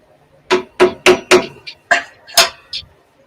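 Sharp metallic hammer taps on a flathead screwdriver seated in a slotted screw: four evenly spaced close strikes, a short pause, then a few more hits, loud and alone.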